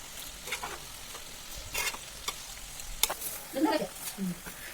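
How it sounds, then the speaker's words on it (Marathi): Over half a kilo of sliced onions frying in oil toward golden, a soft low sizzle broken by irregular stirring scrapes, with faint background voices near the end. "कांदा आत्ता जसा आहे पूर्ण याला सोनी रंग येऊपर्यंत भाजून घ्यायचा आहे"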